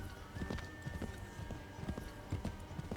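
Horse hooves clip-clop at a steady trot in Assassin's Creed III, close and fairly quiet over a faint game ambience, with a sustained tonal hum running through part of it.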